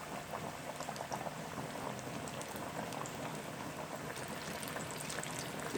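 Coated zinger chicken deep-fries in hot oil with a steady, dense bubbling crackle that holds even and continuous throughout, with no voices.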